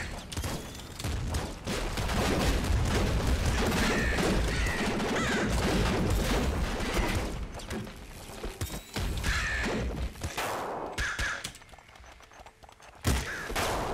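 Dense, continuous gunfire from the Nuclear Throne video game, with rapid overlapping shots and crashing impacts that build and stay loud. The firing thins out near the end and then surges once more.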